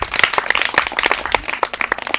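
An audience claps in a dense, steady round of applause, the many overlapping hand claps close and lively throughout.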